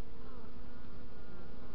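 Honeybees on their spring cleansing flight in March, a dense close buzzing swarm with overlapping wingbeat hums and occasional rising whines of individual bees passing, continuous and without speech.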